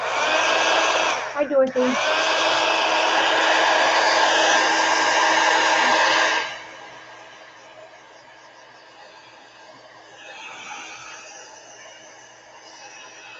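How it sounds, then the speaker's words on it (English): A heat gun blows a steady, loud broadband whoosh while drying Kuretake watercolor paint on a page, running for about six seconds with a brief hitch near the start, then cutting off, leaving quiet room sound and a short spoken greeting. "let me hit it with a heat gun. See if we can set these colors"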